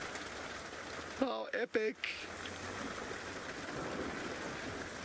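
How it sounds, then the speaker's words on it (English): Steady, dense rain hissing throughout, with a person briefly exclaiming over the downpour. "it's been quite a constant, steady downpour."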